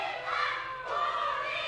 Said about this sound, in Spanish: Los gritos de Curita, Curita, que comienza a reinar en el gimnasio Halcón Galáctico